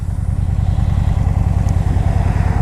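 A Honda Shadow 750 motorcycle at full throttle on a highway on-ramp gives a loud, steady, throbbing engine drone with dense low pulsing and wind rush, heard close from the rider's seat.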